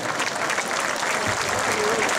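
Audience applause at a municipal band concert during a patron saint festival in Manfredonia, Italy: steady dense clapping from a crowd, close and full, with a voice faintly under it.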